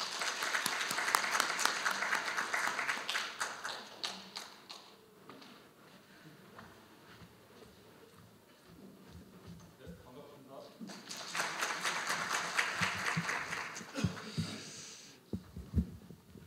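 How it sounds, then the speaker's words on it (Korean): Audience applause at the opening ceremony of an academic conference, a dense burst of clapping that fades to a murmur midway, then swells again into a second wave before tapering off with a few scattered claps. "큰 박수 부탁드립니다."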